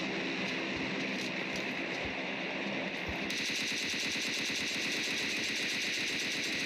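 Rapid automatic gunfire in PUBG Mobile Lite, a mobile battle royale game, fired while prone during a close squad fight. It sounds as loud, continuous bursts that grow denser and more rhythmic halfway through.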